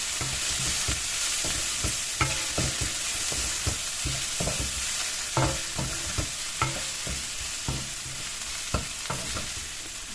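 Onions fry in a pan with a continuous bright sizzle while a spatula scrapes and stirs in irregular knocks, close and steady, with no voices.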